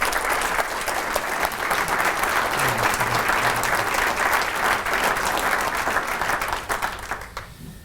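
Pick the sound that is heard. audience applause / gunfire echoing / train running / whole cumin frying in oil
audience applause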